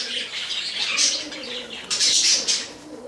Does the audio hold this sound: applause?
no